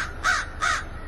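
A crow gives two harsh caws in quick succession, close and loud, each a short rasping call with a brief gap between them.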